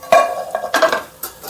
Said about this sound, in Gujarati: આને સારી રીતના હલાવી